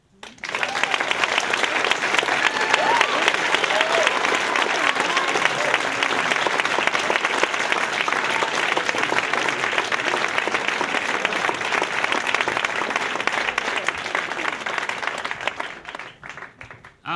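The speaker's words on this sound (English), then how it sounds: "one more huge round of applause" A crowd at a storytelling event claps loudly and steadily for about sixteen seconds, then the applause tapers off at the end.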